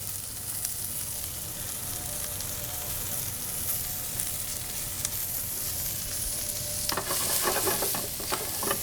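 Brussels sprouts and shallots sizzle steadily in a hot pan, a soft continuous frying hiss that turns into louder stirring clatter and crackle toward the end.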